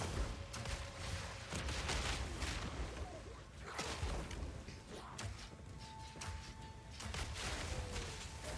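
Explosions from grenades in Path of Exile 2 combat, a rapid barrage of sharp bursts and booms layered over busy game noise, dense and fairly faint overall.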